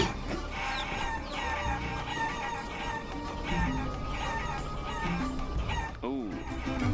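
Chickens cluck and a rooster crows in the video game Guacamelee STCE, steady fowl calls layered over game music and effects, with someone talking over the sounds.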